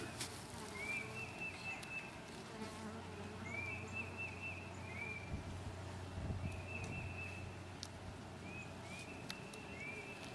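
Bees buzzing close by, a steady drone with individual insects rising and falling in pitch as they fly past, no voices.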